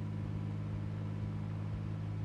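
A car engine in the zombie survival game Project Zomboid drones steadily and evenly at low pitch, close and unbroken, with no voices.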